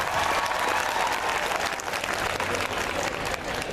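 Audience applause at an entry-test guidance seminar, a steady dense clapping from a large crowd filling the hall throughout, loud and continuous with no break.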